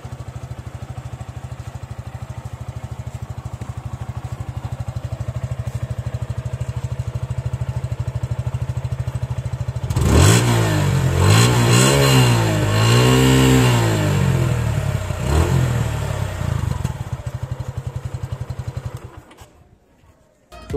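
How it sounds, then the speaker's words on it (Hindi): A Suzuki Gixxer SF150 (2020, BS6) motorcycle idles steadily, then its engine revs up and down in several rising and falling sweeps, loud and close, before cutting off abruptly near the end. "तो चलिए इस गाड़ी का अब एग्जॉस्ट नोट सुनते हैं।"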